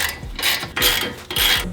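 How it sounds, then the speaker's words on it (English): Ratchet working on brake calipers during reassembly after a R1 Concepts drilled and slotted brake install with powder-coated brackets on a MazdaSpeed 3, giving close, loud bursts of rapid clicking in three strokes with brief pauses between. "Just bolting our calipers back together here."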